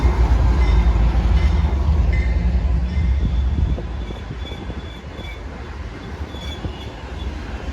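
A train with engines 7219 and 895 passing through Depew Amtrak station on a December evening fills the air with a loud, close rumble that eases noticeably about halfway through, fading to a steadier lower roar with faint wheel squeals, no speech.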